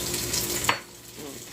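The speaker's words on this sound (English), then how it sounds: "I'm just seasoning the pan real quick." A pan being seasoned crackles with a steady, moderately close sizzle and frying hiss, with a small clink partway through before the sound eases to a softer sizzle.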